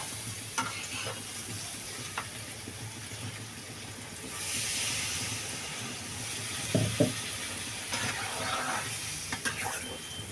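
Potato and eggplant frying in a pan sizzle steadily, then a hissing burst of steam swells as water is poured in, with a few stirring knocks and clatters near the end.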